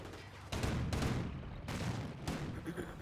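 Gunfire from a Company of Heroes battle as a Greyhound armored car engages an MG42 position. Bursts of rapid fire and explosions come in several surging waves over three seconds, dense and fairly loud, with no pause between them.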